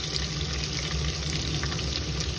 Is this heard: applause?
no